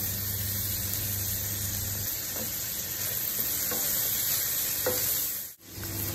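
Green chillies stirred into chicken liver frying in a pan give a steady sizzle with soft scraping stirs, and a brief dip in the sound near the end.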